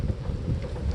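Hurricane wind buffets the microphone with a steady, loud, rumbling roar that swells slightly toward the end, with no voices.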